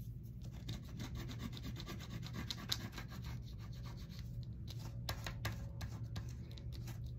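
Steady dry rubbing of a hand smoothing paper pages on a small handmade tea-bag notebook, a continuous soft scraping close by with no talking.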